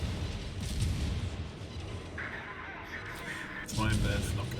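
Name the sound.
naval guns firing in World of Warships video game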